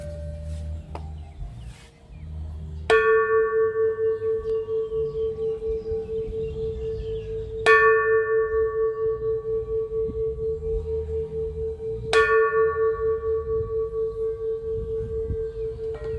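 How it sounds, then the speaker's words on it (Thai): A large temple bell is struck three times, each hit ringing out loud and then fading into a long, humming resonance between strikes. "ตรงมุมก็จะเป็น ระฆังมีระฆังให้ตีนะครับ ลองตีละครังกันดูเนาะ"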